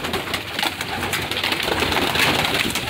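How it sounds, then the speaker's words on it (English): Pigeons cooing inside a loft, a close, busy mix of soft overlapping coos and rustling that continues throughout with no talking. "Pigeons everywhere."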